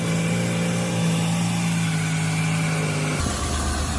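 A Ford Escape 3.0 V6 engine idles steadily up close after a stripped spark plug hole repair, running smooth with no misfire, a constant hum that drops off abruptly near the end.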